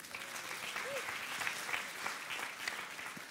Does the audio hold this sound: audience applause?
yes